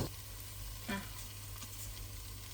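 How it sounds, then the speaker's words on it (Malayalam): Tomatoes mashed and stirred while frying for mutton curry, a soft continuous sizzle with a faint scrape of the spoon near the middle, quiet and without talk. "ഇനി നന്നായിട്ട് തക്കാളിയൊക്കെ ഉടച്ചുടച്ചുടച്ച് ആ ഒരു ജ്യൂസി പോലെ ആക്കി എടുക്കണം"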